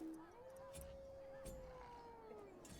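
Wargs howling in a video game, one long sustained howl rising then gliding slowly down over a few seconds, with faint game sounds behind.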